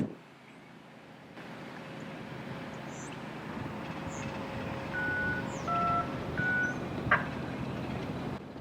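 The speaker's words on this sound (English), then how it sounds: "Right after the grain train made its turn from the C&O to the B&O" A grain freight train rolls through a rail junction at Fostoria while turning from the C&O onto the B&O line, its steady rumble joined by a few short beeps and a sharp metallic clank.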